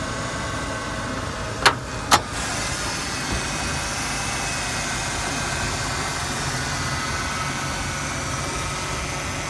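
A 1994 Ford Taurus with a 3.0 liter V6 and 152,000 miles idles steadily at a used-car auction, a smooth, even mid-pitched hum broken early by two sharp clicks.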